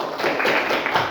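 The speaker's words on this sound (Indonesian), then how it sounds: "Tepuk tangan semuanya." A classroom group claps together after a student's question in an Islamic religious education lesson, giving a steady, dense patter of many hands that lasts about a second.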